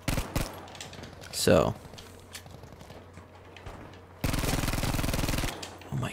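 Hip-fired Type 2a weapon in the shooter game Battlefield V: a dense, loud sustained burst of rapid automatic fire in the final two seconds, preceded by quieter shots and game noise with a brief spoken word.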